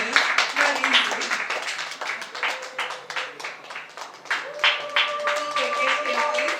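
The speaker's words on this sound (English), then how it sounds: "Can we just clap for them till they get here?" An audience claps at a mental health awards ceremony, a dense, steady patter of applause that runs throughout, with voices talking over it and a faint sustained tone in the background.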